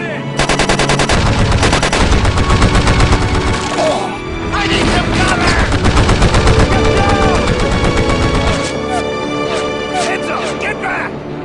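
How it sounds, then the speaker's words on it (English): In the Call of Duty video game, loud machine gun covering fire crackles in rapid, dense bursts, broken by a brief pause, with shouted voices and explosions mixed in. "We'll lay down covering fire!"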